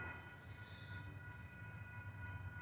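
A BNSF freight local led by three locomotives rolls past, a faint, low rumble of engines and wheels, steady and distant, with no voices.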